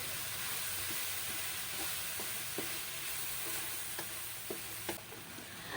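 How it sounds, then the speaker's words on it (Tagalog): Pansit lomi being stirred with oyster sauce in a pan gives a steady sizzle and frying hiss, with soft intermittent scrapes and taps of the utensil against the pan throughout. "Haluin natin ito para lumasa."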